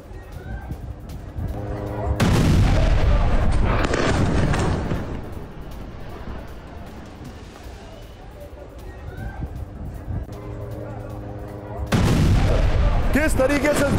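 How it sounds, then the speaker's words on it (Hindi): Israeli bombardment of a residential building in Deir al-Balah, central Gaza, heard as loud booming blasts and rumbling at the start, fading to a lower din, then another loud burst near the end, with talk over the noise. "देर अल बला में इसराइल की बमबारी"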